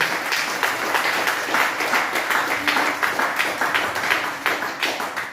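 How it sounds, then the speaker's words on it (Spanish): Church congregation applause at a Bible teaching, loud and close, with distinct hand claps falling into a rough rhythmic beat over about five seconds and no talking. "Denle un aplauso al Señor,"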